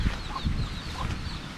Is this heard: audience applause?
no